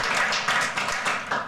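Audience applause after a community progress report presentation in Franklin County, a steady burst of clapping from a moderate-sized group, fairly close and continuous with no talk over it.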